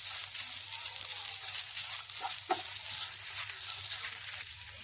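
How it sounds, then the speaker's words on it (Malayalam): Banana and grated coconut are sautéed in a pan for a Kerala sweet filling, producing a soft, steady sizzle with a few light stirring knocks, fairly quiet and uninterrupted by talk. "ഇനി നമുക്കിതിലേക്ക് തേങ്ങ ചുരണ്ടിയത് കൂടി ചേർത്ത് കൊടുക്കാം. എന്നിട്ട് ഇതും കൂടി ഒന്ന് വഴറ്റി കൊടുക്കാം."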